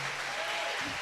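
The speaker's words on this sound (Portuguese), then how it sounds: "Vamos aplaudir aí" Brief burst of applause from a congregation in a church service, honoring a man; dense clapping throughout with a faint voice rising near the end.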